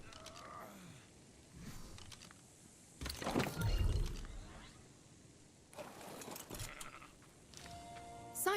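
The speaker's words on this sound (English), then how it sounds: "This might be another job for the sheep if you can't fit." Sheep in the game ARK: Survival Ascended bleat in a few wavering calls, separated by quiet gaps, with a louder bleat near the middle over a faint background.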